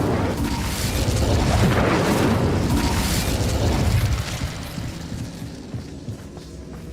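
An Incendio fire spell cast in Hogwarts Legacy bursts with a loud, roaring whoosh and boom that sustains for about four seconds, then fades into a softer crackling tail, with no talk.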